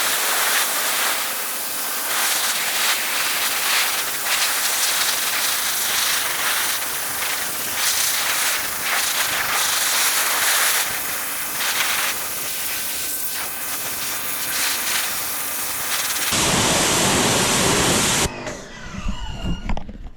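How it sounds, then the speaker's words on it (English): Pressure washer fitted with a 25-degree tip blasting dried algae off a boat hull, a steady loud hiss of spray that holds for most of the stretch before cutting out near the end. "I'm gonna start pressure washing the other side"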